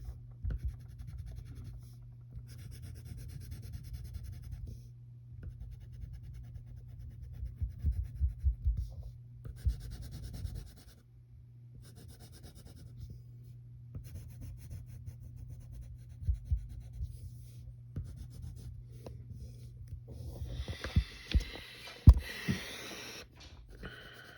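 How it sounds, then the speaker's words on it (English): The side of a graphite pencil shades across paper in soft, continuous scratchy strokes, quiet and close, with brief pauses between passes and no talking. "take the side of our pencil and add some shadows"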